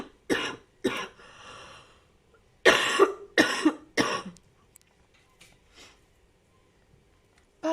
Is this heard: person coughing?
yes